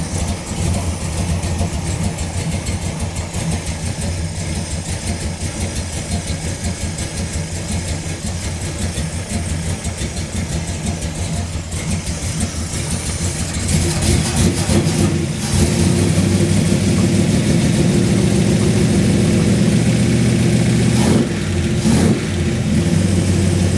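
A Plymouth Road Runner V8 idles steadily after its fuel pressure was turned up, with a deep, even rumble up close. The loudness rises partway through, and the idle sounds fuller and busier for the rest of the clip, with no talking.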